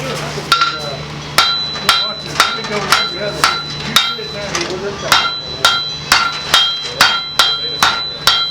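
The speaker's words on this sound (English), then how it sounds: "That's using the round side of my hammer. I'm going to use the round of the horn." Hand hammer strikes a Damascus steel billet over the round horn of an anvil, drawing out the metal in steady, ringing blows about once per second, loud and close, with faint voices in the background.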